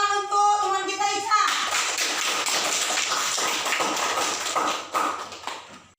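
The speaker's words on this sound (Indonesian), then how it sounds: "tepuk tangan untuk teman kita Ica." A classroom of children claps together for a fellow student in an Islamic studies lesson, a dense, steady burst of many hands sustained for several seconds at close range, following a brief harmonic voice at the start.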